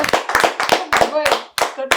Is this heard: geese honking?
no